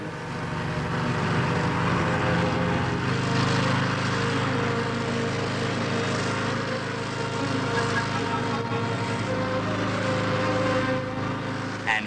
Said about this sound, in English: a fan is switched on to build up an air cushion underneath